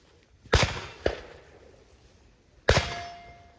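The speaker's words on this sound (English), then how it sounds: "we're going to draw fire 2 rounds" Two sharp handgun shots ring out after a draw during a defensive shooting drill, the second coming about half a second after the first, followed later by a third loud report with a lingering ring.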